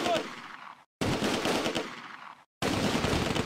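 Automatic BAR rifle bursts and mortar fire in the World War II strategy game Close Combat: A Bridge Too Far, Groesbeek landing zone, coming as three dense, loud clusters of rapid gunfire with brief silent gaps between them.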